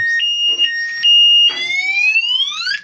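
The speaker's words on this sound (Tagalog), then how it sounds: "Ito ang tunog ng kanyang alarm." Electronic car alarm set off from a remote key, chirping loudly, a high steady tone that breaks up briefly, then rises into a sweeping siren wail, close by and alone.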